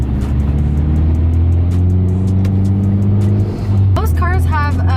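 A manual car's engine hums steadily and climbs slightly after the shift into second gear, with engine harmonics close by, then a brief chirping squeal near the end.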